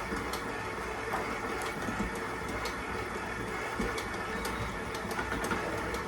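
A stand mixer beats panettone dough in a bowl, a steady motor hum with a rhythmic slapping churn that continues unbroken and fairly loud at close range, with no talking.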